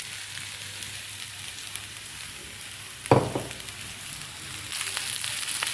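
Pomfret fish frying on a tawa, a steady soft sizzle running throughout, with a brief louder sputter or clatter near the middle.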